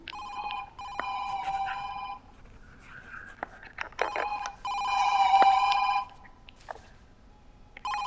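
A telephone rings in the horror game Loco Parentis, two long bursts of harmonic bell-like ringing separated by a pause, with faint scattered clicks and thumps between the rings.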